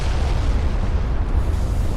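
A warship's ammunition cooking off in the Ultimate Admiral: Dreadnoughts naval game: a loud, continuous low rumbling boom that fills the whole stretch, heavy and sustained with no distinct separate blasts.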